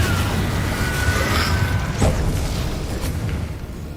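An Incendio fire spell cast in the Hogwarts Legacy video game, giving a sustained, loud, roaring whoosh of flame with deep rumble throughout, swelling briefly near the middle.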